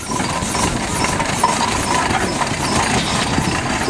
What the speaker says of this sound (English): Now we've got the other ploughing engine come in.